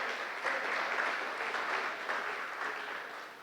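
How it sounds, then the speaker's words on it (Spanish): A church congregation gives sustained, full applause for several seconds, with the clapping close and continuous. "Dele ese aplauso a Jesús el Señor."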